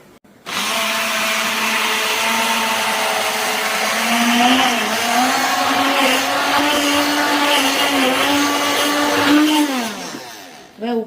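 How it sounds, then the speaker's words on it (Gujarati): A kitchen blender whirs steadily at close range for about ten seconds, churning cooled boiled milk, mango pulp and sugar, its motor pitch dipping slightly as it winds down at the end. "અને એને બ્લેન્ડર મારશું."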